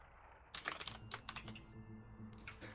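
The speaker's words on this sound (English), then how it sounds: "Typing there" Rapid clicky typing on a computer keyboard in bursts of quick keystrokes with short pauses, close and clear, in a StarCraft 2 tournament setting with no talk over it.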